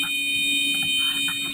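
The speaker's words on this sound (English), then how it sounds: "Suddenly, the alarm sounds." An aircraft alarm blares as the plane goes down, a steady electronic buzzing tone held loud and unbroken throughout.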